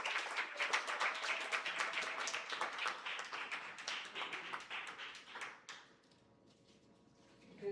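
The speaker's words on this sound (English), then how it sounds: "give a round of applause for this new author, Anne-Marie Pegg" Audience applause at a mental health symposium, with many hands clapping in a dense, lively burst that fades out toward the end.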